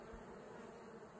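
Honey bees buzz from a hive body with three supers packed full of bees, a dense, continuous drone heard close up and alone.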